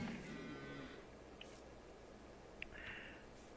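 Cows moo faintly in a farming video game set in 1950, a low drawn-out call at the start and another softer one near the end over quiet ambience.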